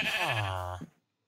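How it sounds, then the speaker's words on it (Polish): A single close, loud sheep bleat from Minecraft: one wavering, drawn-out call that breaks off abruptly, with silence after. "O, owca."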